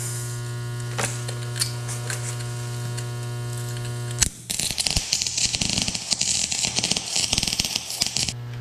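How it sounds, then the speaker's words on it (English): A steady electrical hum gives way about halfway through to the close, harsh crackle and sputter of welding on a door roller, which continues to the end. "Just wanted to get enough weld on it"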